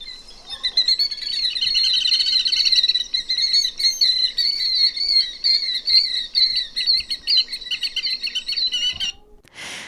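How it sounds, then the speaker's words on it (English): Killdeer calling in a field, a long run of rapid, shrill, high repeated notes close by that keeps going before cutting off near the end. "we often hear the killdeer out in the fields before we ever see them."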